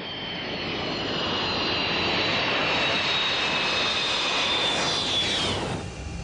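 Hawker Hunter military jets take off from a closed stretch of the N2 motorway near Lodrino, Switzerland, a loud, continuous roaring jet engine wash building and holding steady with a rising whine, fading at the end.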